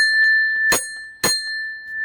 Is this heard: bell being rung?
yes